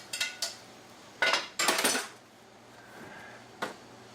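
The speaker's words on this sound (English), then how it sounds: "We're going to pull those shrimp out, put them in the sauce that we had from before" Sharp metallic clinks and scrapes of tongs or a utensil against a pan as cooked shrimp are lifted out and dropped into sauce, several close, irregular bursts separated by quiet stretches.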